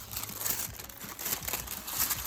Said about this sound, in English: I'm going to cut enough of this tissue off just to wrap it up